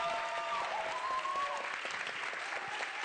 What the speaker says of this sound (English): a round of applause for our bath spa actors